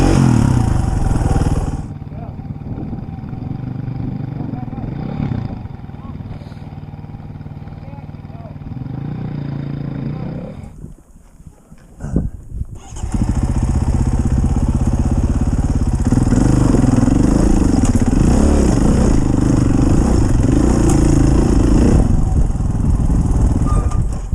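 Motorcycle engine revving up and pulling away on a father-daughter trip in Big Bend, loud and sustained with a brief dip before the throttle opens again, while people talk over it.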